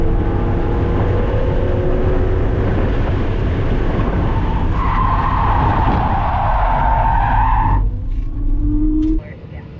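Mazda Miata spinning out during an autocross run, engine roaring loud and close with tires skidding and squealing through the spin, a long rising screech near the end before the car drops off abruptly.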